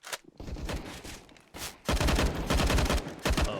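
Rapid Glock pistol fire in Counter-Strike during a competitive match, a few sharp shots early, then a dense cluster of quick gunshots over the second half.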